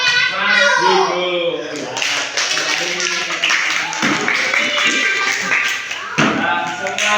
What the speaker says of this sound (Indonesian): tepuk tangan untuk kelompok Mas Hugo